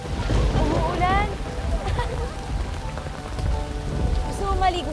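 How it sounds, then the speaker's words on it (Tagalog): Steady rain falls and patters on surfaces throughout, loud and continuous, while voices talk over it. "Umuulan!"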